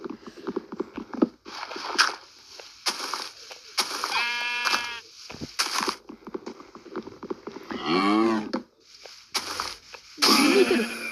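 Cows lowing in the blocky game Minecraft during a hardcore one-block survival run, a couple of drawn-out moos with other short animal and game noises scattered between them, and no talking.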